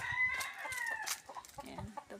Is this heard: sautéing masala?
no